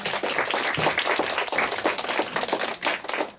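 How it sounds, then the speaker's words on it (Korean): An audience of high school students at a lecture breaks into lively applause, close and loud, with irregular bursts of individual claps rising and falling. "또 한 번 박수."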